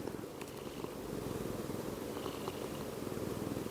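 A pet cat purrs steadily up close, a soft continuous rumbling throb that grows slightly fuller partway through, with no talking over it.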